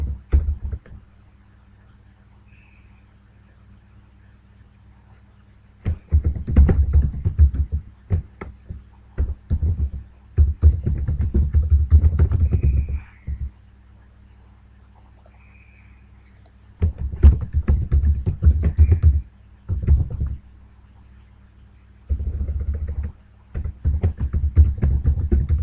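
Mouse clicks and keyboard key presses while working in Primavera project software, coming in several bursts of rapid close clicking and tapping separated by quiet pauses.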